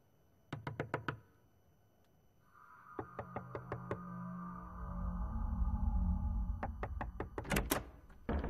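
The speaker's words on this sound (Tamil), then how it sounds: "யார கதவு தட்டுறாங்க?" Sharp knocks on a door in a Tamil horror film, several quick bursts of three to five raps separated by pauses, over a low droning tone that swells in the middle.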